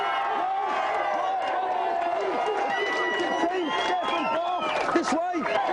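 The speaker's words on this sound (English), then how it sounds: "let's have a big cheer for the Aladdin team" A TV game show studio audience cheers and whoops together, sustained voices rising over about six seconds with scattered shouts near the end.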